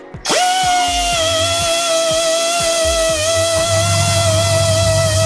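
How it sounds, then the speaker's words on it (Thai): A tire puncture hole is reamed out for a mushroom plug, giving a steady high-pitched tool whine with repeated rhythmic scraping strokes underneath, loud and close. "ตรงนี้ต่อไปก็คือทะลวงจะไม่มีเสียงลวดแล้ว เห็นไหมครับ เข้าออกง่ายแล้ว"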